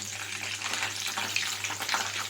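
Mustard seeds, cumin and urad and chana dal frying in hot oil for a Rayalaseema dish, a close, soft and steady sizzle with scattered small crackles and pops and no talking.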